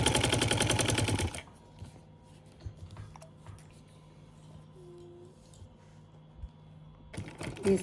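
A sewing machine stitching lace onto a garment neckline, a fast rattling burst of stitching at the start, then near quiet with small handling sounds and another brief rattle at the very end.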